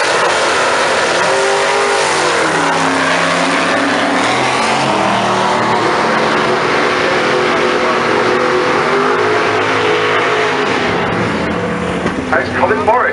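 Drag racing cars at Santa Pod Raceway, a loud, sustained engine roar with rising and falling revs across the run, continuous and close, with a crowd or commentary voice faintly beneath.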